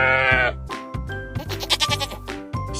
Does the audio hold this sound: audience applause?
no